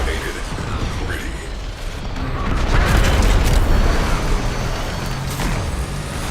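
A cruise ship reactor detonates in the space combat of Warframe Railjack, a heavy, rumbling blast that swells and holds as a dense low roar with metallic groans, fairly loud and continuous.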